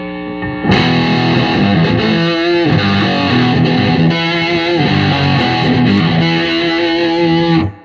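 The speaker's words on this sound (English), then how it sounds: "when I engage the distortion channel on the Fender along with the Klon clone, it starts acting a little different" Fender Telecaster played through a Fender amp's distortion channel with a Klon clone pedal, thick sustained chords ringing out loud and close with no talking.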